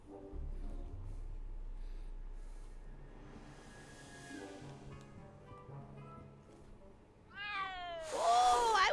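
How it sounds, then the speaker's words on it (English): A cat meows in the Back to the Future video game, a rising, wavering meow near the end that cuts in over quiet background music and ambient game sounds. "so I'd love to know where that meow came from."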